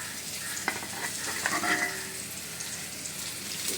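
Fish sizzles loudly in a hot pan after water is added, a dense close hiss with sputtering pops and faint metallic scrapes, heard without any talking.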